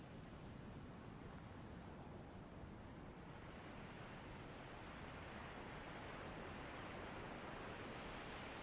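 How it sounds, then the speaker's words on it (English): Ocean surf washes steadily, waves rolling in and falling back as a continuous broadband rush at moderate loudness, with no voices. "imagining a wave rolling and falling back"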